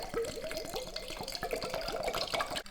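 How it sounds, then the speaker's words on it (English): Water pours into a glass jar holding ginger and sugar for ginger beer, giving a close, steady gurgle with rapid rising glugs as it fills, stopping abruptly at the end. "Fill it with water."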